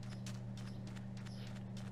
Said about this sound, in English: I have a horse with diamond horse armor.